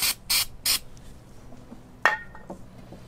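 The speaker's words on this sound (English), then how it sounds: "Some of this goof off." Goof Off adhesive remover sprayed from an aerosol can while removing a badge from a Subaru WRX: three short, sharp hissing bursts close by, followed by a faint clink and small handling knocks.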